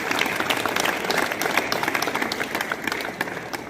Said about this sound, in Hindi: एक बार जोरदार तालियां बच्चों की